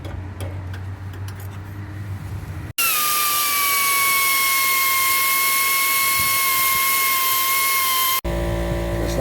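Power cutting tool slicing a half-circle patch out of a Ford F-150 fender, a loud steady high whine running for about five seconds between quieter stretches of shop noise.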